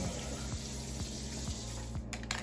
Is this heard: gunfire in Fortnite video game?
no